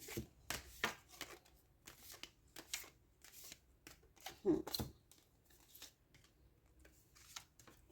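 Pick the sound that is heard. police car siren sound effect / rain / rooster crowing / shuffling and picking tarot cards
shuffling and picking tarot cards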